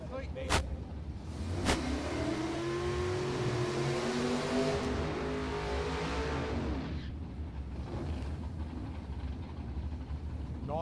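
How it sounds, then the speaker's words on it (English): A 1963 Corvette Roadster drag racing at a test-and-tune event, its engine roaring and revving hard with rising pitch before fading, loud and steady with sharp clicks near the start, under a commentator's talk. "Nice looking car, the little 63 Corvette Roadster of Graham Spencer."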